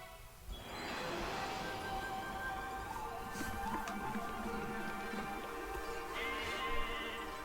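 A sheep in the video game Okami bleats over a steady ambient game background, with faint chimes later and no talk.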